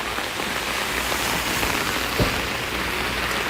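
Steady rain falls outdoors as a dense, even hiss, with one brief thump partway through and no voices.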